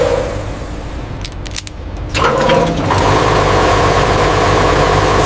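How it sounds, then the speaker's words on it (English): A bulldozer diesel engine on a factory production line runs in at varying RPM, a loud, steady mechanical drone that dips briefly and then climbs to a fuller, harsher roar as the revs rise. "Engine run-in, varying RPM loads, checking for abnormal noises"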